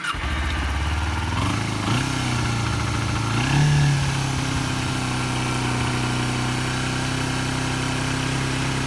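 A 2010 Kawasaki Ninja 250 starts up just after carburetor and choke work, with a couple of short revs before settling into a steady, even idle. The engine is close, droning, and holds a constant low hum, with no talking.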